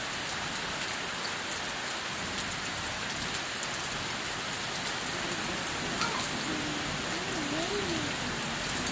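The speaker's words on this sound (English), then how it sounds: "It is raining." Steady rain pouring onto surfaces during a late summer thunderstorm in Kenmore, Washington, a constant close hiss of drops with no break and faint tonal noise in the background.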